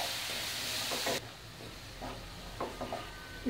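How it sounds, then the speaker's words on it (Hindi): Garlic paste frying in hot oil in a pan, a steady sizzling hiss with soft stirring scrapes throughout, close and fairly quiet with no talk. "इसको अच्छे से फ्राई करेंगे।"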